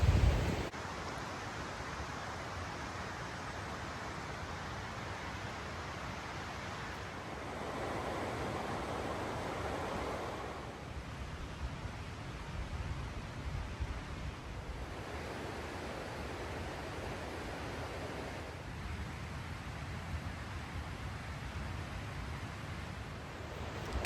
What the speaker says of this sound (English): The river is just howling through this area